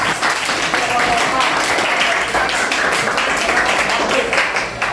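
A room full of people clapping, a steady crackle of applause that keeps going throughout.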